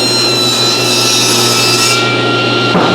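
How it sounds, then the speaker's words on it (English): An old Craftsman power saw ripping bourbon barrel staves, a loud continuous whine and rasp of blade through oak that holds steady, then drops off near the end. "So this old Craftsman just ripped about a mile of staves."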